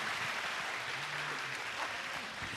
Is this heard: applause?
yes